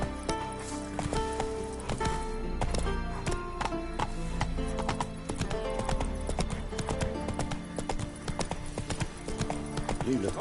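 Roach, a horse in the video game The Witcher 3, gallops with rapid rhythmic hoofbeats, close and loud and continuous, with faint game ambience and music beneath.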